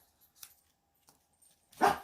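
A pet dog gives one short, loud bark indoors at the end of an otherwise quiet moment, preceded by a few faint household ticks and rustles.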